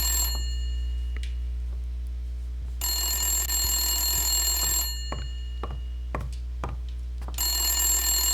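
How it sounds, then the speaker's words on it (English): Telephone ringing inside the Blacksad video game: two long bursts of bright, metallic bell tone separated by a pause, with soft footsteps and small clicks in the gap over a steady low hum. "No, pick up the phone."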